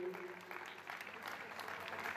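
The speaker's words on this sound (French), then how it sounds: "On les applaudit plus fort que ça." A crowd applauds the second-place team on the podium at the finish of an urban raid race, a steady wash of clapping at moderate distance with faint voices mixed in.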